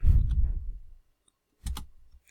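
A computer keyboard is typed on at a boot utility prompt: a short burst of muffled keystrokes, then a pause, then a couple of sharp clicks from a key press, close and alone.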